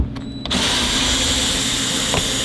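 A power driver whirring steadily while backing out Phillips head screws on Ford F-150 radio trim, a loud continuous close-up motor drone after a brief start-up.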